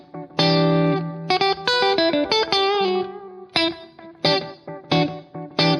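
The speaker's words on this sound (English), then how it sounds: "we're getting both our regular delay signal and now the 3/8 slapping against that other one" Analog multi-head delay pedal with the 3/8 slapback head turned up, repeating short guitar phrases and chords with tight echoes layered over a longer delay, giving a small-room reverb feel; loud and close, with no talking.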